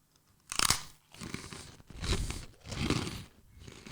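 Close, loud crunching and chewing of a freeze-dried astronaut space food dessert, several crisp bites and munching bursts in an irregular rhythm, with no talk.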